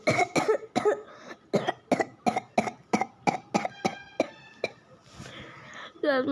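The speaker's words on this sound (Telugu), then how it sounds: "దగ్గుతూ చచ్చిపోతా" A rapid string of roughly a dozen harsh coughs in uneven bursts while playing the game Dark Riddle, close and fairly loud, with a brief pause and a voiced sound at the end.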